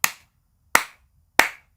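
Three sharp, separate hand claps in an acoustically treated room, each one dry and close with almost no reverb tail, evenly spaced and alone.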